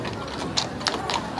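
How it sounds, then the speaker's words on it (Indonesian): Horse-drawn carriages at Schönbrunn Palace in Vienna, large horses clopping their hooves on pavement, a few distinct hoof strikes over steady outdoor crowd murmur. "Di sini banyak delman guys, dan kudanya tuh gede-gede gitu,"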